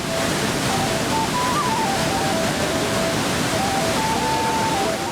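Water pours out of a dam's release in a loud, constant roaring rush that fills the whole span without a break.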